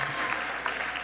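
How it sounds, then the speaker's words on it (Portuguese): An audience at a ministerial swearing-in ceremony in Brazil claps steadily, a dense, even roar of applause for about a second. "Minha salva de palmas para vocês."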